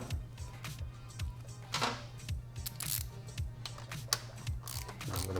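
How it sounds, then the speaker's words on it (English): A hand ratchet with a 19mm socket turns a frame slider bolt on a 2016+ Yamaha FZ-10 motorcycle, giving a close, steady run of quick repeated clicks alongside faint mechanical handling noise. "I'm going to grab my 19mm socket and try to align that thread."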